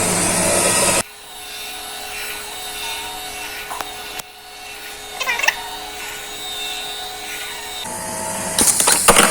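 Hydraulic bending machine in a fluid drive systems lab, running with a steady mechanical hum and a constant tone, with faint clicks and rattles over it and louder clatter near the end.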